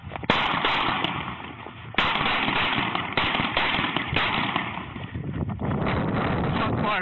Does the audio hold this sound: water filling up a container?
no